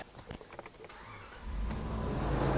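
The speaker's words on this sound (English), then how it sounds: "Let's start this engine up." A car engine with an EGR system cranks and catches after a few clicks and brief mechanical noises, then settles into a steady low idle rumble.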